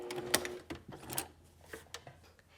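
A sewing machine runs a short back stitch at the crotch seam of a garment while a fly shield is finished, with quick bursts of mechanical clatter and small clicks, fairly close and moderately quiet, with no voices.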